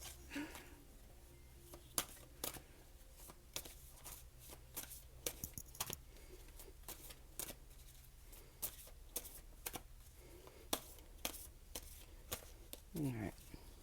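A small deck of about fourteen tarot cards being shuffled by hand, giving a run of crisp, close riffles and flicks in an irregular rhythm over a faint steady background hum.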